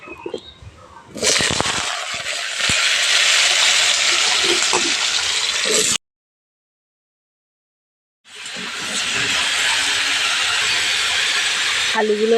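Diced potatoes sizzle loudly in hot oil with cumin or five-spice in a pan, a steady frying hiss that stops abruptly for a silent gap, then resumes just as strongly.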